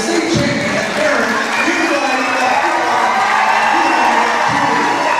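A crowd in a high school gym at a DeKalb boys basketball game against Northridge applauds and cheers loudly for the state champion unified flag football team, with whoops and shouts over a dense, continuous roar.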